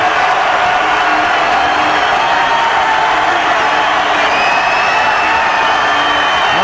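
A packed basketball arena crowd at an Aggies game keeps up a loud, continuous roar of cheering, with whistles and shouts rising above the steady din.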